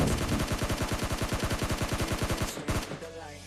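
Automatic gunfire rattles in PUBG Lite, a loud rapid burst of evenly spaced shots lasting several seconds before cutting off abruptly.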